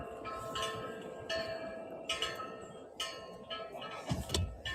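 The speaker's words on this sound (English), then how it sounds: "bear with the bells and let's move forward with this" Bells chime repeatedly in overlapping, ringing strikes with long shimmering tails, fairly loud and close, mixed with some background rumble.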